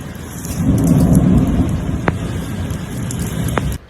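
Heavy city rainstorm with thunder, a steady loud roar of pouring rain broken by a couple of sharp nearby thunder cracks.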